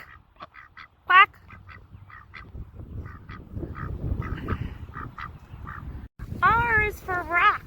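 A duck quacks in a short series of calls outdoors on a nature hike, with a louder, nearer burst of quacking toward the end over a steady outdoor background.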